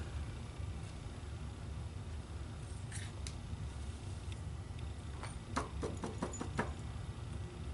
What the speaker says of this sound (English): I just knocked over my trimming board